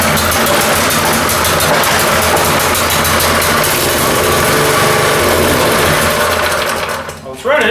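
An old rototiller engine runs with the choke on, a loud, steady buzzing drone that holds for several seconds before dropping off and sputtering near the end.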